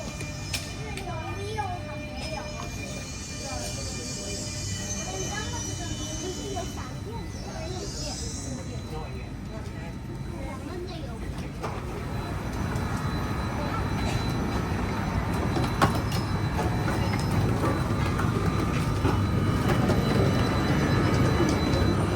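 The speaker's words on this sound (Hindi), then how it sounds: "हमारी ट्रेन आ गई है, तो अब यहाँ की ट्रेन में सफ़र करते हैं" A metro train in Kuala Lumpur pulls into the station and then rides on, its low rumble and rolling noise building steadily and staying continuous and fairly loud, with talk from people nearby over the first half.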